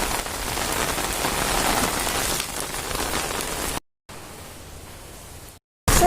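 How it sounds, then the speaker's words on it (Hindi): Heavy, steady downpour drums on a rooftop for several seconds, loud and continuous, with brief gaps where the sound cuts out before returning. "फिर ऐसी बहुत दिन बाद आ गई इतनी तेज़ बारिश।"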